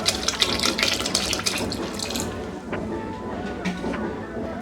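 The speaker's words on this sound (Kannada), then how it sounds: "ಹಾಗೆ ಇದಕ್ಕೆ ನೀರು ಹಾಕೊಳ್ಳೋಣ." Water poured into a pot of sweet pumpkin sambar being cooked, a steady splashing gush that is loudest early on and then settles into a softer trickle, with no talk.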